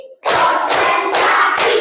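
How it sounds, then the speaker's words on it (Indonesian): A classroom group claps four times in an even rhythm, each burst sharp and loud at close range, ringing briefly before the next. "Tepuk 4 kali."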